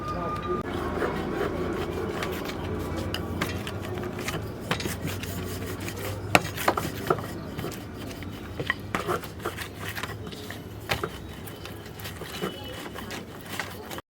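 A rolling pin works folded, square paratha dough on a board, a continuous rubbing, scraping rumble with irregular small knocks and clicks, close up, and a voice speaks intermittently over it.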